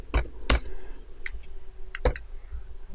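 A few sharp, separate keystrokes on a computer keyboard while typing an npm install command, close and clear over a quiet background.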